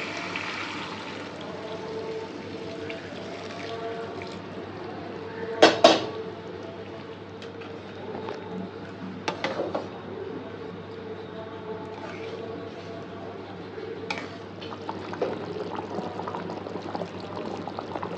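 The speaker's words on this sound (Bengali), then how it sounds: "এই যে গরম জল করে রেখেছি ওটা দিয়ে দেবো।" Hot water is poured from a kettle or pot into a pan of simmering chicken curry. The pour runs as a steady low wash under clinks and scrapes of utensils against the pan, with a few sharper knocks along the way.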